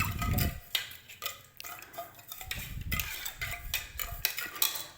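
A spoon stirs a mixture of milk and sugar in a pot, making repeated soft scrapes and clinks against the metal in an uneven rhythm. The sound is close and moderately quiet, with no talking.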